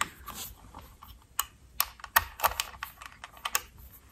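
Threadripper 3970X socket on an MSI Creator TRX40 motherboard being tightened down: a close series of sharp, irregular clicks and ticks over about four seconds, with no talking.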